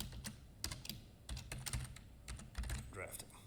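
Fingers tapping a computer keyboard, a quiet, irregular burst of close keystroke clicks with slight pauses, faint room tone underneath.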